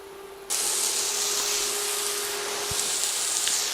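Onion and carrots hit a hot pan and a loud, even sizzle starts suddenly, then holds steady as a broad hiss to the end.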